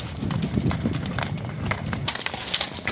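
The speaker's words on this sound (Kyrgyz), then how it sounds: "Жеңил жакшы жылкы экен, а?" Hooves clop among the crowd at a horse market near Bishkek. The irregular hoof steps sound close and sit under constant chatter and background noise.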